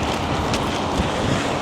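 Strong typhoon wind in Tokyo roars steadily and loudly into the microphone in a dense, unbroken rush with slight gusting swells, filling the whole short stretch with no talk.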